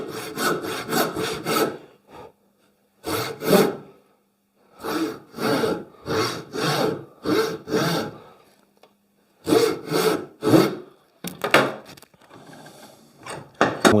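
Hand saw cutting through timber in bursts of rapid back-and-forth rasping strokes, loud and close, with short pauses between runs of sawing.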